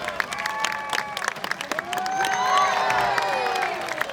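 Crowd at an aquarium sea lion show cheering and applauding, scattered claps at first swelling into loud shouts and whoops, with children's high voices prominent in the mix.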